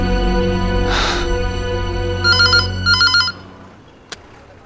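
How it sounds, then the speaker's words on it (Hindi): A phone rings loudly in a drama scene, its electronic trill repeating in two quick bursts over a sustained musical tone that then cuts off, with no talking. "कम ऑन सोनाक्षी, अब तुम मेरा फोन भी नहीं उठाओगी?"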